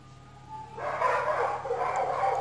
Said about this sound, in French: un petit retour des chiens du voisin